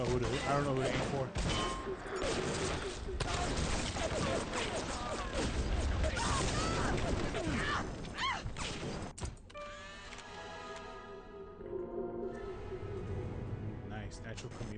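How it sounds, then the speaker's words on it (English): Dense gunfire and crashing hits in the video game BioShock, a busy, loud barrage of shots and impacts mixed with game noise while a player talks over it. "I hear gunfire everywhere."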